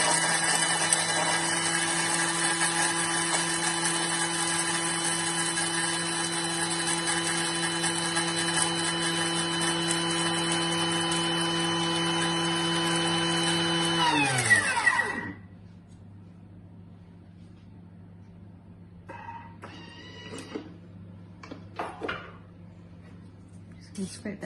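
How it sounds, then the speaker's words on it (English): An electric grinder grinds thin orange peel, without the white pith, to release its oil: a loud, steady high-pitched motor whine that runs for about fifteen seconds, then spins down and stops, followed by faint scraping and light clatter. "we're just going to grind that together, and it'll release the oil"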